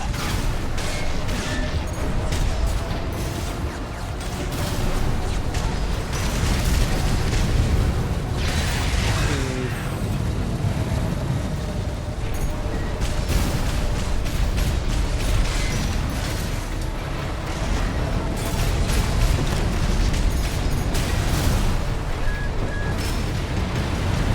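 Explosions bursting on the ground in a FromSoftware mecha video game, a dense continuous roar of booms and blasts that stays loud throughout with no pauses.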